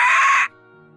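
A bird gives a single loud, harsh caw lasting about half a second inside the Nancy Drew game Curse of Blackmoor Manor, then cuts off abruptly, leaving only a faint steady background hum.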